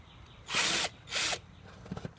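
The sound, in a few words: power drill with 1/4 inch bit drilling hole in plastic kiddie pool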